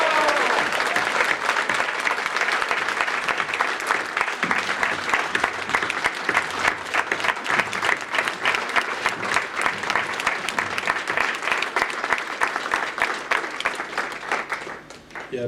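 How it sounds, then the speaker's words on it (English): A live audience bursts into sustained applause and cheering at a tribute evening with drumming for Dr Roi Kwabena, dense clapping filling the room steadily before tapering off. "a big cheer for Roy Kwabena."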